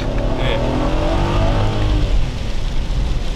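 An Audi S6 C5 with a 4.2 V8 and automatic transmission drives on a wet road, its engine note rising under steady rain and tyre hiss. The sound is heard from close range and is continuous.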